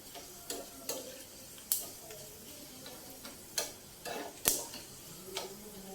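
Tempering for tomato pachi pulusu fries quietly in a pan, a faint low sizzle broken by occasional sharp pops and clicks at irregular intervals, with no talking.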